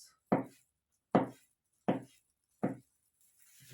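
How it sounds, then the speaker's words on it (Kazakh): A knife chops through an egg for a New Year salad in four sharp, close, evenly spaced strokes about three quarters of a second apart, with quiet gaps between and no voices. "Тағы бір жұмыртқаны турай салғанды жөн көрдім"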